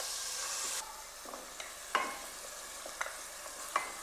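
Chopped onion sizzles quietly in a pan while a spoon stirs it, with a few distinct scraping clicks spaced across a soft, steady fry.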